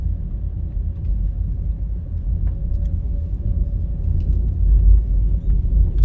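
A car drives along Dominica Drive through the New Kingston city streets, heard from inside as a steady, loud, low road-and-engine rumble that swells a little toward the end, with no talking.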